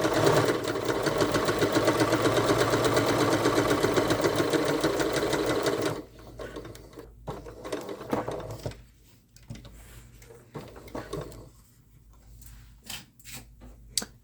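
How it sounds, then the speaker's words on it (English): A sewing machine runs steadily through a straight stitch on slippery fabric for a bow, a loud continuous whir for about six seconds before stopping, followed by quieter scattered handling noises. "begin sewing a straight stitch, and we're going to be doing a 3/8 of an inch seam allowance"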